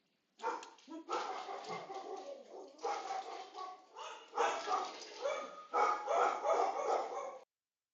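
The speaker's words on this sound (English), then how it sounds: "I hope you guys don't hear the dogs barking." Several dogs bark and yelp in repeated bursts from nearby, close and fairly loud, with bird-like chirps mixed in and no speech over them.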